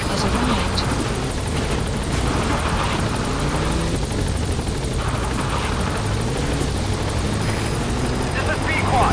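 Loud, constant helicopter rotor thrum close by, steady throughout, with a voice speaking over the noise, as a support helicopter arrives in the video game Metal Gear Solid V.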